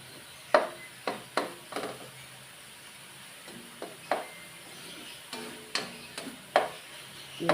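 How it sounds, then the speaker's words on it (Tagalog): Bean sprouts and ground pork are stir-fried in a pan, a spatula clicking and scraping in irregular sharp knocks over a soft steady sizzle, no talking. "Gisa-gisa po."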